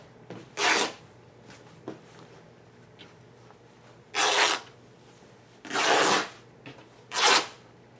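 Cotton quilting fabric is torn into strips for a rag quilt, with four loud, sharp ripping bursts close by, each about half a second to a second long, separated by quieter gaps holding faint handling noises.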